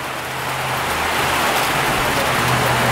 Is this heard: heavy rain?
yes